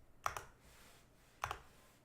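Two quick, close keystroke bursts on a computer keyboard mark a user typing in CAD software, each burst a short clatter of clicks with a quiet pause between.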